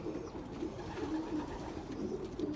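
Young racing pigeons coo in a loft, soft repeated throaty warbles overlapping nearby in a steady low murmur.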